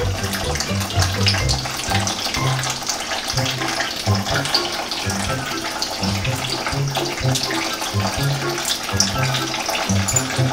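Water runs steadily from a tap, a constant close splashing rush that continues throughout with no pauses.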